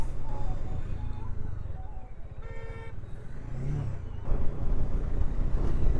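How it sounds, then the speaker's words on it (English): Busy road traffic in Nepal, with a steady wash of passing cars and motorbikes, engines rumbling close by and a short car horn honk partway through, the traffic noise swelling louder toward the end. "Oh, the traffic is pretty crazy here."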